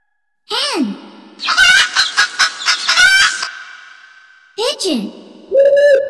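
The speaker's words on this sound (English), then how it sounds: "Hen." A hen's harsh, rapid clucking and squawks, close and loud, in a burst of short calls followed by a drawn-out cackle.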